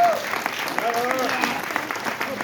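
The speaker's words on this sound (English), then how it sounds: "I think this is one we really want to just hear a lot of great applause for her" An audience at a Boston community meeting breaks into applause, a steady patter of clapping with scattered cheers and voices mixed in, fairly soft and diffuse.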